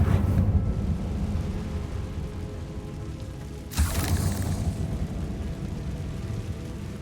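A Confringo blasting spell in Hogwarts Legacy erupts as one sudden explosive burst partway through, over low rumbling game ambience that continues afterward.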